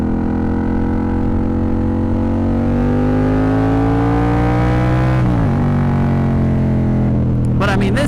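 A Yamaha FZ-07 motorcycle with a cheap $130 aftermarket exhaust revs up loud and close, its engine note climbing steadily for about five seconds before dropping off, then blipping briefly again near the end.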